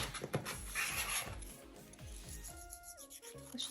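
A nail file rasps against artificial nails set on a peel-off base coat, in quick, close, rhythmic back-and-forth strokes that ease off toward the end.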